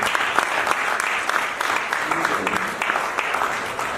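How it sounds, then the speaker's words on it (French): Audience applause at a kickboxing event in Senegal, dense steady clapping from a crowd filling the whole stretch at an even level, with no voices standing out. "si on peut les applaudir, s'il vous plaît"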